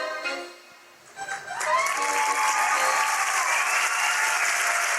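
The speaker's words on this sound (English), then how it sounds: "fling open the fabric and receive your well-deserved applause" A crowd breaks into loud, sustained applause after a clown's magic trick with a bandanna, starting a second or so in and continuing densely to the end after a brief musical tone.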